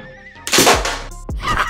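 A homemade working replica of the TF2 sticky launcher fires with a sudden loud burst of air and a hollow thunk, a brief tail, then a second sharp knock shortly after, close and clear.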